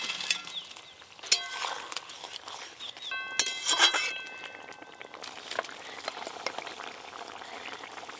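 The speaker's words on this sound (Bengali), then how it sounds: "গ্রেভি তো বেশ সুন্দর করে ফুটে গেছে" Gravy for a beet and cabbage kofta curry bubbling and boiling in a pan, a steady close bubbling with a few clinks of a utensil partway through, no talking.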